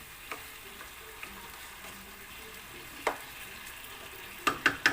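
Chicken adobo with potato being stirred in a frying pan, a steady low sizzle with a few soft utensil scrapes and sharper clinks of the spoon against the pan near the end.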